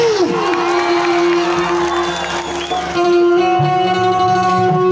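A large crowd cheers and whoops loudly and continuously, with scattered clapping mixed into the din.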